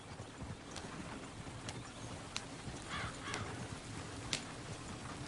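Horses' hooves clip-clop steadily in a video game, a rhythmic clatter over dense background ambience, with a few sharp knocks and faint bird caws mixed in.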